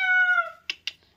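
A person mimics a cat's meow with one long, clear, drawn-out, falling meow up close, followed by two short sharp clicks or taps, with no other voices.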